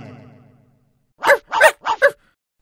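A dog barks four sharp times in quick succession, close and fairly loud, after a brief low rumbling sound that fades to silence.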